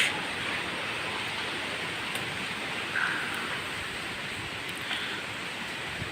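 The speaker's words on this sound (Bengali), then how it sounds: "প্রচণ্ড বাতাস" Strong wind on a dark, rainy day roars as a steady broadband rush, with a few faint high chirps and small gusts rising briefly above the constant noise.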